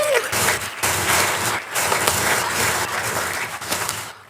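Audience at a Rotary club comedy roast applauding after a performance, a burst of dense clapping from the room that pauses briefly and picks up again.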